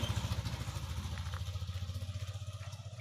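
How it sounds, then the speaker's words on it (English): A motorbike passes on a village road near a construction site, its engine a steady pulsing drone that stays loud and close for the whole stretch. "Somebody was passing with a motorbike"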